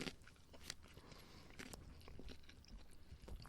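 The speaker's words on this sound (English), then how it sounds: "Getting a real good read on me chewing this carrot right now." Someone chews a raw carrot close to the mic, giving a steady run of crisp crunches and wet bites with no talk.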